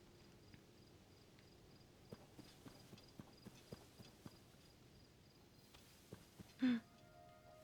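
A horse's hooves clip-clop at a slow, uneven walk in the video game Zelda: Tears of the Kingdom. The hoofbeats are soft and moderately distant, and a short louder snort or whinny comes near the end.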